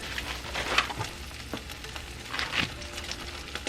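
A low carb keto bagel-bite wrap frying in a pan, giving a soft, steady sizzle with scattered crackles and small pops, close and fairly quiet.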